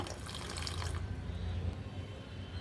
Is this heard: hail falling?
no